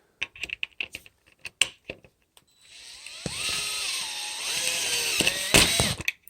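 A pop bumper being screwed back down on a Jersey Jack Wizard of Oz pinball machine: scattered sharp clicks of parts and screws first, then from about 3 s a sustained whirring power-screwdriver drone that rises in pitch and stops near 6 s.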